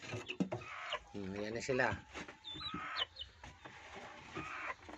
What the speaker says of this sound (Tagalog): Tapos ito naman yung mga sisiw. Sisiw na maliit.